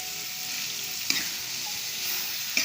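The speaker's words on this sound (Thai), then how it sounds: "ตามด้วยเนื้อหมูของเราเลยนะครับ" Pork is stir-fried for a spicy northern Thai dish, making a loud, steady sizzle throughout with a couple of sharp utensil clacks against the pan and no talking.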